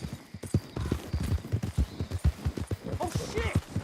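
Horse galloping in the video game Red Dead Redemption 2: rapid, rhythmic hoofbeats close up and fairly loud, with a brief whinny near the end and a voice speaking over it.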